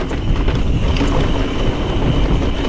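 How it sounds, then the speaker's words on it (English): Strong gusting wind roars steadily across the microphone on a sandy mountain biking trail at a Red Bull Rampage event, a loud, continuous broadband rush with no pauses. "There's that wind. There's that sand. Oh yeah, it's blasting."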